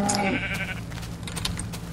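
Minecraft sheep bleating in a short wavering cry near the start, then fading into faint game ambience with soft clicks; no talk over it.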